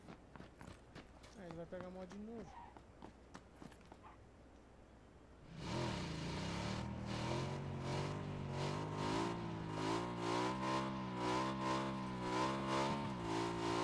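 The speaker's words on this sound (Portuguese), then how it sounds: "acho que é uma moto" A motorcycle engine in the video game Quad Xtreme 3.0 Battleground starts up after a few seconds and revs loudly and steadily, with pulsing harmonics. Speech comes before it, and at the start there are brief rising tones.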